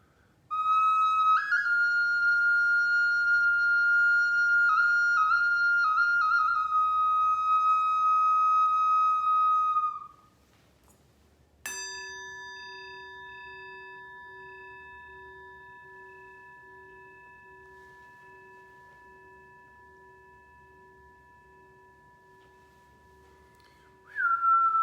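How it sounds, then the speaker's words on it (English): A sustained pure whistle tone holds for about ten seconds, then a Tibetan singing bowl is struck and rings with a long, slowly fading hum in a quiet room. "Bring the whistle in a Tibetan bowl, and I think it's a better sound."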